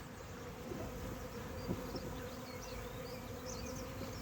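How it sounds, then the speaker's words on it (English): Bees buzz steadily and softly, a dense continuous hum with no voices, quiet and close by. "Still an awful lot of bees hanging around."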